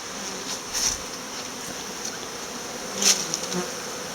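Honeybees flying out on an early spring cleansing flight, a steady faint buzzing drone with a few louder passes close by, no talking.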